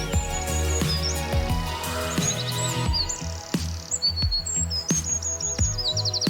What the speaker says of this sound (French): Réponse, un martin pêcheur.